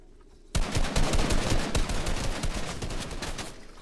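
Fortnite gunfire erupts suddenly after a quiet start, a dense flurry of close, loud shots in quick succession that gradually thins and softens toward the end.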